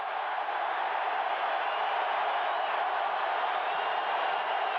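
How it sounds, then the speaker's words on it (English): A football stadium crowd during a 1988 Washington at Washington State college game makes a dense, loud, steady roar that holds evenly throughout with no voices standing out. "Now listen to the crowd."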